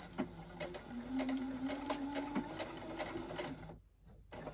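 A sewing machine runs steadily while stitching a scrunchie wristlet, reversing back and forth to backstitch and lock the seam, with a loud continuous motor whir and needle clatter until it stops abruptly near the end.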